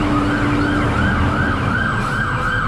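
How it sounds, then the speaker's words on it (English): Ambulance siren wailing in a repeated rising and falling pattern as it passes along Canal Street in Manhattan, loud over steady street traffic noise, with no talk. "let me wait until this ambulance passes."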